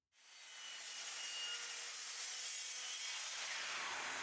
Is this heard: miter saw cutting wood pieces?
yes